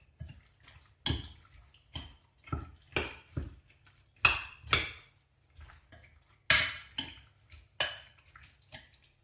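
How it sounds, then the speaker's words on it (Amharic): Irregular kitchen clinks and taps while lemon juice and olive oil are added and mixed well for a chicken wrap filling, with about a dozen sharp utensil-on-bowl knocks and scrapes, near and fairly quiet, no talking. "ሎሚ ኦሊቭ ኦይል እጨምራለሁ። ከዛ በደንብ አድርገን እናዋህደዋለን።"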